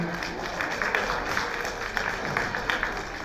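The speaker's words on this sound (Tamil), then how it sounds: "எங்கே இவர்களுக்காக உங்களது கரகோஷங்கள்." An audience applauds a song performance at a Tamil charity event for disabled people, steady moderate clapping with some crowd murmur running throughout.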